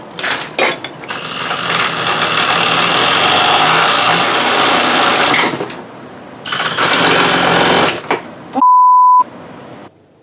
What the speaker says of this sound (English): I'm just gonna have to drill a little hole right there just to get it to fit through